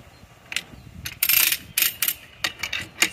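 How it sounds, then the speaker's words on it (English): A ratchet clicks in uneven bursts as it is turned with a bar for leverage, pulling a street tire off its rim, close and fairly loud with brief gaps between strokes. "Slides right in here for leverage and start ratcheting around to pull the tire off of the rim."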